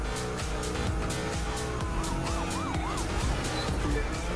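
A police siren wails and warbles in The Crew 2 racing game, loud and close over a constant roaring car engine.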